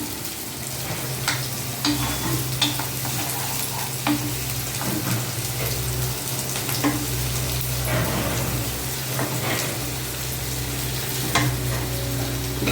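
Meat cooking in a pan sizzles and fries steadily while a spoon stirs and scrapes, with occasional knocks against the pan, close and continuous without talk.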